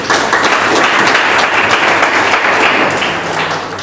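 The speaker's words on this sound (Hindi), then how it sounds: "एक बार जोरदार ताली अपने लिए।" An audience at a direct-selling business training session breaks into steady, loud applause that fills the room for several seconds and fades slightly at the end.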